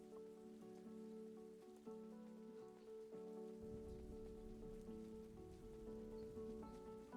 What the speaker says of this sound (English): At least we get the really nice sounds of rain all the time.